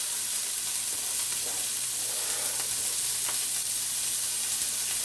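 Celery and carrots sautéing in a pan for shepherd's pie, a steady, bright sizzle and hiss that runs evenly throughout without any talking.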